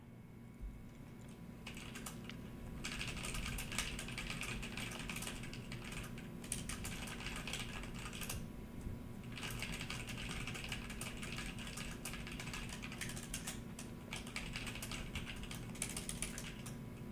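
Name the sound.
typing on a computer keyboard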